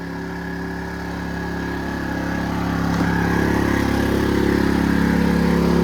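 A Pulsar GX420N generator runs steadily nearby, a fairly quiet, even engine drone with a low hum that swells slightly in loudness, with no talking.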